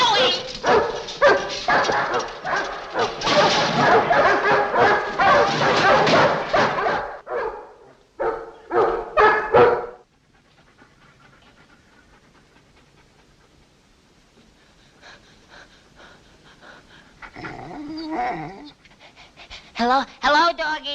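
Dogs pant heavily and bark up close, loud and busy for about ten seconds, then the sound drops to a quiet stretch with a voice speaking near the end.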